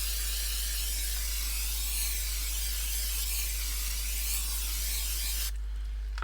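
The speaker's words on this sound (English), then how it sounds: "So I'm gonna coat the pan nice and good." Cooking spray hisses steadily onto a frying pan for about five seconds, then cuts off, with a constant low hum underneath.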